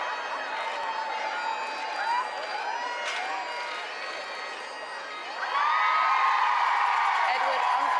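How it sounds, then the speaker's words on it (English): A crowd gathered outside Canongate Kirk for a royal wedding cheers as royal guests arrive and wave, with continuous cheering and whoops that swell louder near the end. "The crowd very pleased by that wave for them."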